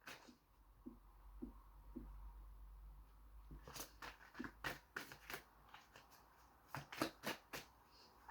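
Cards drawn from a deck during a numerology tarot-style reading: quiet, sparse soft slides at first, then a run of crisp flicks and snaps from close by, irregular and separate, with no talk.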